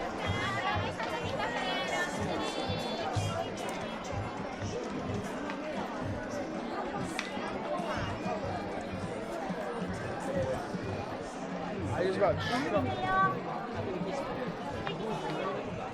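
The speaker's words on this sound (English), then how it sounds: "If you love crowds, you'll love this place." Crowd chatter on a busy Tokyo street, a dense steady babble of many voices with footsteps and street bustle, close and continuous.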